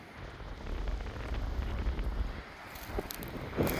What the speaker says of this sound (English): I was talking about that wind.